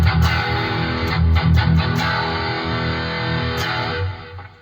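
Electric guitar played through a Tank G multi-effects pedal preset with the reverb set to zero, heard alone as a sustained, driven, effected tone with a few picked accents near the start and one more toward the end.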